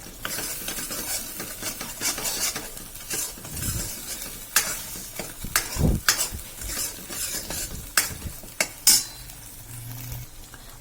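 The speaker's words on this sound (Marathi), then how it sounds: "आपला मसाला छान फ्राय झालेला आहे" Spice masala fries in a pan while a utensil stirs it, with close scraping and clanks over a continuous sizzle in an irregular rhythm and no speech.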